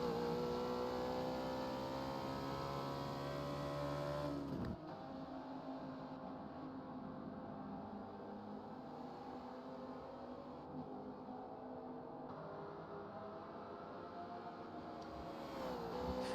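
Mercedes and McLaren production race cars in a racing video game endurance event at Homestead-Miami, engines droning steadily with shifting pitch as the cars corner, continuous and fairly quiet with no talking.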